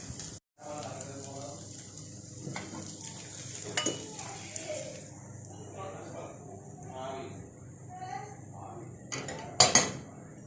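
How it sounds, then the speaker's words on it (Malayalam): Pan-fried tandoori chicken being moved from the pan to a serving dish, with utensils clinking and scraping against metal over a soft sizzle, a faint voice underneath, and a few sharp clatters near the end. "ഇനി നമുക്കിതൊരു സെർവിങ് ഡിഷിലേക്ക് മാറ്റാം"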